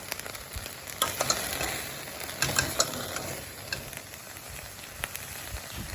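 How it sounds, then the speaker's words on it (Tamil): Steady sizzling of onions frying in a pan, with occasional stirring clicks and crackles throughout, fairly close and moderately loud. "இந்த வெங்காயம் தாளிக்க விட்டு நல்ல பொன்னிறம் ஆயிட்டு இருக்கு"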